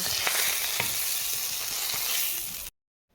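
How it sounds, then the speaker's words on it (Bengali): Prawns frying in hot oil, a loud steady sizzle with faint crackles that cuts off abruptly near the end. "চিংড়ি মাছ ভেজে নেব চিংড়ি মাছ ভেজে নিয়েছি তুলে নেব"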